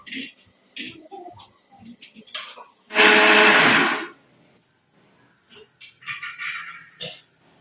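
A mixer grinder whirs loudly for about a second while grinding tomato masala for egg curry. A person talks before and after the grinding burst.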